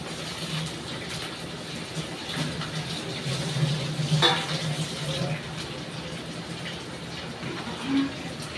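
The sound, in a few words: washed chicken frying with onions in a pan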